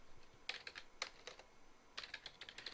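Computer keys are tapped in short bursts while CSS is typed, crisp clicks in quick clusters with brief pauses between, close and fairly quiet, no talk.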